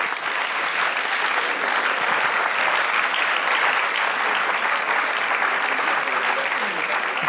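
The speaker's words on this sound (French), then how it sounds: "qu'on applaudisse nos intervenants" An audience at a conference on power and authority in international relations claps for its speakers, a steady, dense round of applause that holds evenly and loud throughout.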